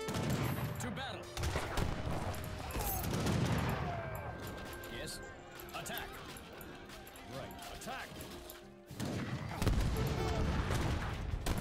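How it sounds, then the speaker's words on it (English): Cannon and gunfire in an Age of Empires III battle, with repeated heavy booms and dense volleys of shots layered through a busy, loud mix, and voices talking over parts of it. "Ooh, they had cannons too."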